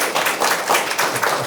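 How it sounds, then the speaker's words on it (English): Audience clapping for a guest named Mia at a sociology talk on social good: a brief, steady burst of applause from a crowd, moderately loud and even throughout. "Everyone, a round of applause for Mia."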